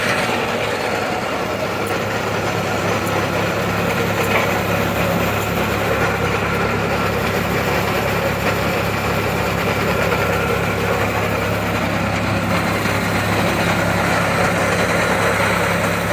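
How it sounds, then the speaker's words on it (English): A 110-volt single-phase electric motor drives a Javelin auger alongside a Clipper grain cleaner, giving a loud, steady, unbroken mechanical hum and rumble that holds the same level from start to finish. "And the Javelin auger is powered by a 110 volt, single phase electric motor."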